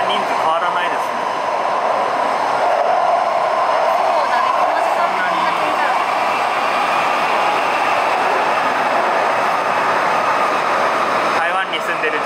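A Taipei subway train runs with a steady, loud rumble and rushing hiss that holds evenly throughout, while voices talk over the noise.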